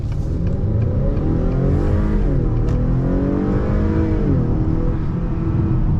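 A 2022 Acura TLX in sport mode accelerates hard through a left turn, its engine note loud and steady from inside the cabin, rising in pitch with a brief sweep as the revs climb and settle.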